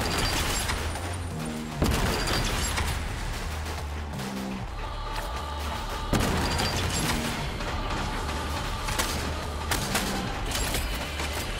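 Rapid gunfire from two guns in the video game SPRAWL, a dense rattle of repeated shots with heavy booming impacts and mechanical clatter, steady and loud without pause.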